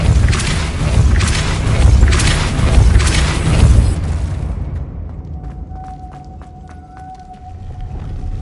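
Force-spell impact from the Hogwarts Legacy video game: a loud, sustained booming whoosh with rhythmic pulsing for several seconds, fading into a quieter tail with faint chimes and a thin ringing tone.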